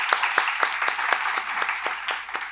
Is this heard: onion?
no